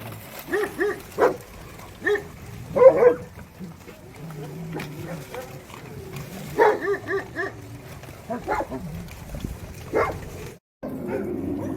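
Dogs bark at a large outdoor animal shelter, repeated short barks and yips from several animals at moderate distance, coming in uneven clusters with quieter gaps between.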